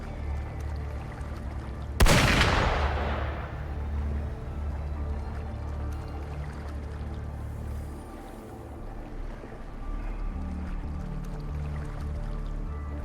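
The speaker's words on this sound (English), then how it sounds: "Gunfire! We've got intruders." Gunfire in the video game Wuthering Waves: a single sharp, loud blast that trails off into a rumbling decay, followed by low ambient game sound and faint watery background noise, with no voices.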